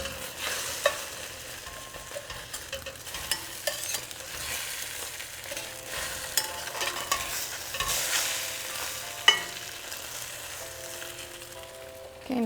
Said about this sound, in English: we're going to flip our egg over